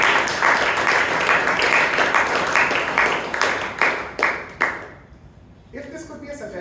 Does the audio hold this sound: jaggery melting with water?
no